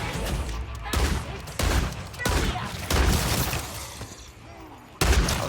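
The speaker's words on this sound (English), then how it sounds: "I'm just gonna kill this zombie and reload." Video game gunfire aimed at a zombie: a run of loud, booming shotgun-like blasts spaced roughly a second apart, each with a sharp onset and trailing decay, close and dominant.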